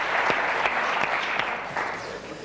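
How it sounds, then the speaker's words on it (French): Studio audience clapping on a French television talk show, a brief stretch of moderately loud, continuous applause with a few sharper individual claps standing out from the general wash. "Tu applaudis, Stéphania."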